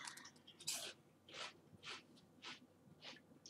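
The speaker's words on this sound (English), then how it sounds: "I apologize for my chewing is loud." Loud, close chewing and wet mouth noises, with rhythmic bursts about every half second alongside audible breathing, and no talking.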